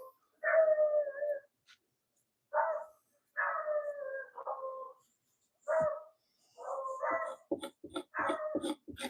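Dogs howl in a run of drawn-out, wavering calls broken by short pauses. The howls grow into choppier yelps and barks toward the end. The sound is clear and fairly close, with no talk over it.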